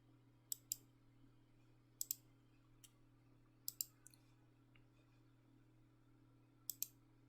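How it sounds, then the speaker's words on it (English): Several mouse clicks, each a crisp double click, come at spaced intervals over a faint steady electrical hum at a computer. "click the run button"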